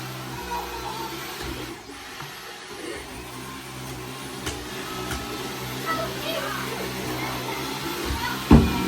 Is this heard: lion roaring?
no